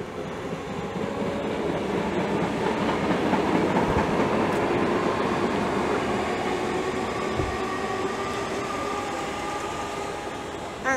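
A British Rail Class 313 electric passenger train pulls away from Stevenage station with a steady low rumble and rising electric motor whine, continuous and fairly close throughout.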